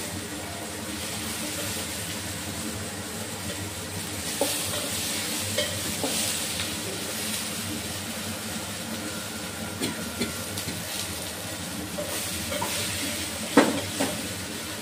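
Mixed vegetables, among them okra and eggplant, sizzle steadily in a hot pan, with irregular scrapes and clinks of a spoon stirring throughout and no voices.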